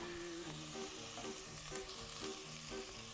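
Garlic and onions sweat in a pan for a Maltese fish soup, making a soft, continuous sizzle and crackle with no voices over it.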